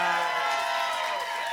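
A live audience at a Bravo recap show in NYC cheers and whoops loudly for Erin Lichy, a dense sustained roar of voices with no break.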